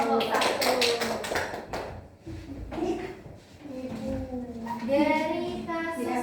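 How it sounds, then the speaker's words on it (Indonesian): A classroom applauds student group 1 with a short burst of scattered clapping at the start, and then voices take over with talking. "Aplaus"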